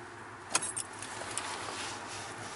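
Car ignition key turned to the off position during a blower motor electrical diagnosis, with a short metallic jangle of keys followed by faint clicks over a steady low background hum.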